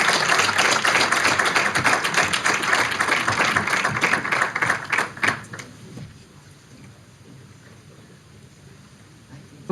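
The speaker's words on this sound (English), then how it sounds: "A big round of applause." Audience applause at a documentary film event, a dense, bright burst of many hands clapping that fades out after about five seconds, leaving quiet room noise.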